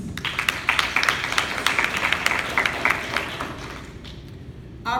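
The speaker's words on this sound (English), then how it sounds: "I think that deserves a round of applause" Indoor audience applause for preschool teachers at a school gathering, a light scattering of handclaps that thins out and fades toward the end, with no voices over it.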